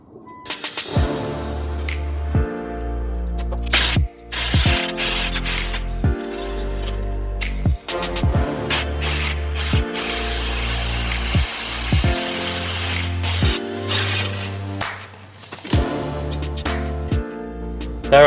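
A DeWalt power tool drives away at a Jeep XJ Dana 30 axle in repeated bursts, rising to a loud whir and winding down again about a dozen times, close by and without talk.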